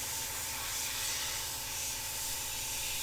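A Meeden 0.5mm airbrush sprays paint with a steady, close, continuous airy hiss and a low mechanical pulse beneath it.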